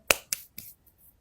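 Three crisp finger snaps in quick succession, fairly close and dry, each fading fast, followed by a couple of faint ticks; no voices.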